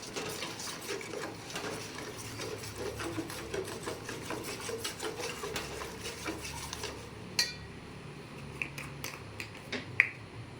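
Beaten eggs being stirred in a pan for chicken fried rice, a busy continuous scraping and clatter of a spoon against metal, thinning into sparser distinct clinks and knocks toward the end.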